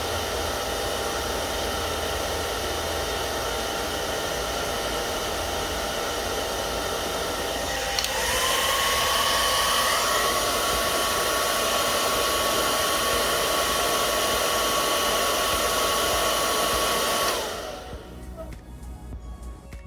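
A Jinri hair dryer blows steadily at close range, a broad constant whoosh that shifts up a notch partway through, adding a faint whine, before cutting back to a quieter hum near the end.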